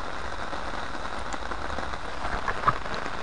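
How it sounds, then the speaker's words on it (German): Steady rain patters on a surface in a continuous hiss, with a few louder drops near the end. "Es regnet."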